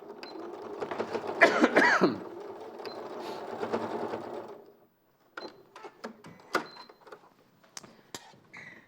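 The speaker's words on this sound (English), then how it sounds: "I'm just going to stitch to secure the elastic in the centre because they're two separate pockets" Domestic sewing machine stitching in the ditch through fabric to secure elastic between two separate pockets; a close, steady mechanical run for about five seconds, then a pause followed by short clicks and handling sounds.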